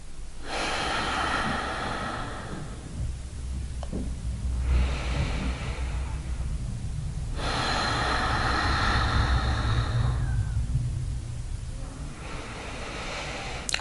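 Slow, deep yoga breaths during a gentle morning session for the lower back, with long inhales and exhales rising and falling in broad waves, close and steady over a soft background hum.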